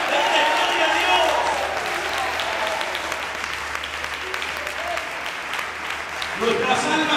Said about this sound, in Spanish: Dale esas palmas